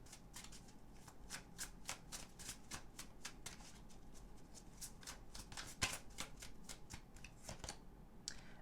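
Tarot cards being shuffled by hand in a steady run of quick riffling bursts, a crisp papery flutter repeating throughout, with one sharper snap near the end.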